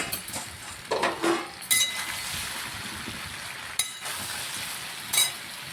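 Taro root frying in a pan and being stirred with a spoon, a soft steady sizzle broken by several clinking scrapes of metal against the pan, no voices.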